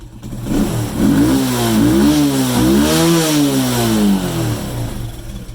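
A Forte 125 motorcycle with an oil leak under the cylinder revs hard and unsteadily near the mic, its buzzing engine note climbing and dipping in waves for several seconds before easing off, with no voices.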